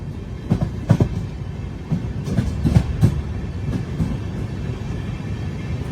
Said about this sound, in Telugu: వ్యాప్ 7 లోకోమోటివ్ అయితే పుల్ చేస్తుంది